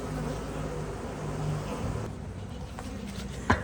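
Saskatraz honey bees buzzing steadily from an opened hive, a close, continuous low drone with a sharper tap or knock near the end.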